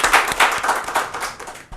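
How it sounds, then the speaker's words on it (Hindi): Loud, close audience clapping at a Rajasthan Parishad event before an interview, a quick burst of sharp, uneven claps that fades slightly before a final few hits. "इंटरव्यू शुरू करने से पहले एक बार ज़ोरदार तालियां बजाएं।"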